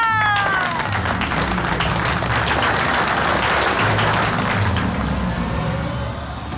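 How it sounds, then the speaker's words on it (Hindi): A crowd claps continuously through a celebration scene in a Hindi TV drama, a dense, steady wash of applause close to the listener that fades slightly at the end. "तालियां!"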